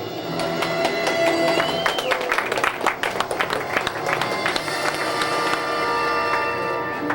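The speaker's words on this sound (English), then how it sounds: "So please give a very warm round of applause" Applause from a small audience at a café poetry reading, scattered claps and crowd noise at moderate level with some voices and background sounds mixed in, thinning toward the end.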